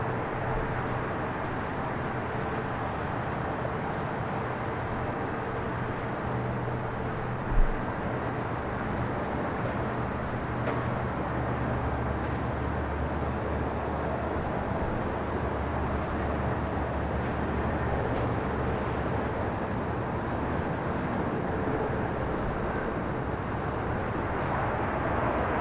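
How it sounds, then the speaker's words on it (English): An American Airlines Airbus A321neo arriving at LAX makes a steady broadband jet roar that lasts throughout and stays loud and continuous, with no talking. "This arrival is American Airlines 1706 coming in from Dallas, Fort Worth on the A321neo"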